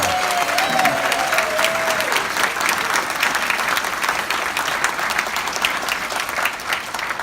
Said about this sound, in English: Can we please repeat the warm applause for Jane that she had last year again for this year?